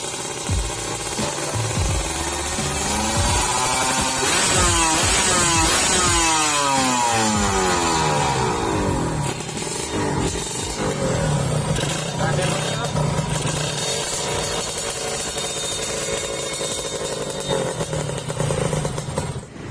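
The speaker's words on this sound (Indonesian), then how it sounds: "jadi kira-kira gini ya suara knalpotnya" Kawasaki Ninja SSR motorcycle fitted with a Crimpie exhaust, revving repeatedly with rising and falling engine pitch over a rough idle, loud and close, while someone talks over it.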